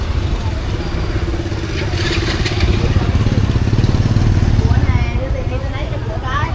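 Motorbike engines rumble and rev close by amid a noisy crowd in a busy Vietnamese market, with people talking over the steady engine drone.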